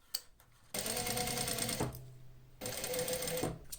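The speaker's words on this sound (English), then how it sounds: "we're going to make a stitch more than 1 centimeter away from this edge" A sewing machine stitches leather for a double welt pocket, running in two loud mechanical bursts of rapid, even needle strokes with a short pause between, close up.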